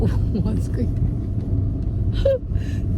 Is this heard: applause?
no